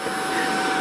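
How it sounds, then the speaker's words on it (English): A Hoover vacuum cleaner runs steadily nearby, a constant whining motor drone with a high tonal hum and airy rush, unchanging and with no voices. "we have to leave the Hoover running"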